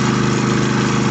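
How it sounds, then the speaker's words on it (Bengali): A small motorcycle-type engine driving a petrol-powered irrigation water pump runs steadily nearby, a loud, even idling drone with a constant low throb and no breaks. "মোটরসাইকেল ইঞ্জিন এটা।"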